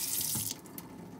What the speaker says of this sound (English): run the water and just push your brush down on the bottom of the sink